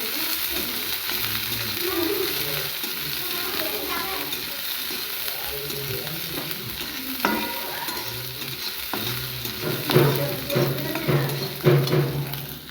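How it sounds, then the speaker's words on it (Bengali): Onions frying in a pan for a radish-greens mash, a continuous close sizzle with scraping stirs that grow louder and busier toward the end. "পেঁয়াজগুলো ভাজা হয়ে গেছে,"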